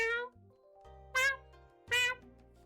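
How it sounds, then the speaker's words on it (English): A cat meows three times in short, tonal, fairly loud bursts separated by brief pauses, with nothing else heard between them. "You get the whole array of cat noises."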